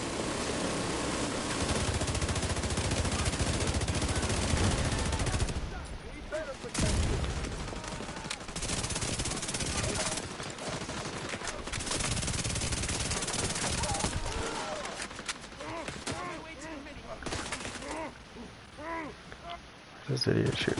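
Enemy gunfire in The Division 2 comes in sustained automatic bursts that rattle on for long stretches, with a player's voice talking over the shooting and brief lulls between volleys.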